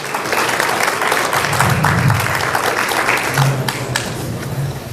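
Loud, sustained audience applause fills a community meeting hall, a dense wash of clapping that holds steady for the whole stretch.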